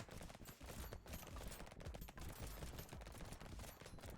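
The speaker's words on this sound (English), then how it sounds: "all these bullets bouncing around is pretty awesome as well" Bullets fire and ricochet constantly in the game Brotato, a dense, rapid clatter of small shots overlapping without pause, fairly quiet and continuous.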